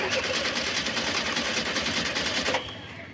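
A car engine cranks as someone tries to start it, giving a rapid, rhythmic churning that runs steadily for about two and a half seconds and then cuts off.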